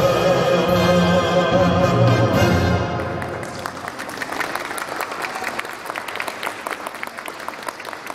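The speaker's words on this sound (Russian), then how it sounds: "Давайте поаплодируем нашим танцорам" An audience applauding dancers, rising out of the tail of sustained music into steady broad clapping from a large crowd that carries on to the end.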